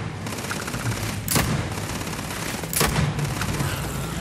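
A pistol in the video game Starfield fires two sharp, loud shots about a second and a half apart, each with a brief ringing tail over steady background game sound.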